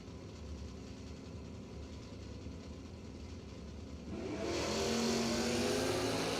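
Drag race cars in a battle of Mopars including a Plymouth Duster, engines droning steadily before a loud surge of revving and acceleration near the end.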